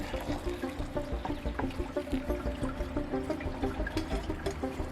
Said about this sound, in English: Let's just see if this water is boiling.